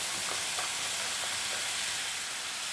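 Sliced onion goes into a pan with softened bitter gourd for pavakka theeyal, and the two fry together with a soft, even hiss that stays quiet and continuous.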